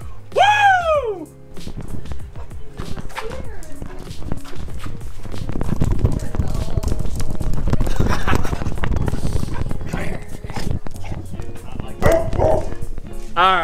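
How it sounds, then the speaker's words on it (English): Dogs bark several times in the background, the barks mixed with clattering and handling noise as someone works on a custom glass intake box for a Subaru WRX, with people talking. "All right, so you heard the dogs"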